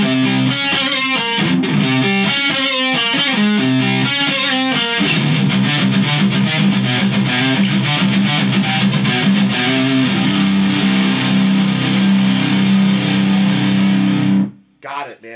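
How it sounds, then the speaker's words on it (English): A thick, heavily distorted ESP James Hetfield Grynch baritone guitar on its EMG 60 neck pickup, through a Hughes and Kettner amp, plays low chugging riffs and sustained chords, loud and up close, then cuts off abruptly near the end. "Let's hear that neck pickup, that EMG 60."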